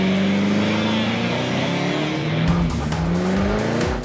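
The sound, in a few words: taxi with bald rear tires doing burnout, tires squealing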